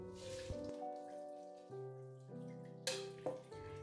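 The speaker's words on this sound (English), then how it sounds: "Drain the rice and rinse it once." Water splashes and trickles as soaked rice for zongzi drains through a colander and gets rinsed, short close bursts of pouring separated by quieter dripping.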